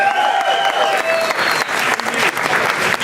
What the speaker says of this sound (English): Go ahead, give him a big round of applause.